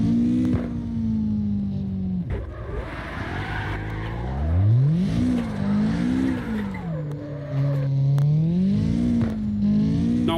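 A car drifting in the video game CarX Drift Racing Online: the engine revs rise and fall in sweeping pitch while tires squeal through the slide, loud and continuous without pause.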